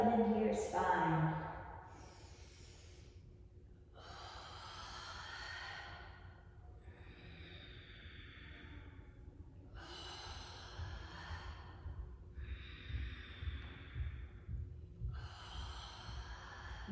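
Slow, deep breaths during a yoga cat-cow stretch: soft, airy inhales and exhales repeat in long, evenly spaced swells, close and fairly quiet, with a faint low hum underneath and no talking.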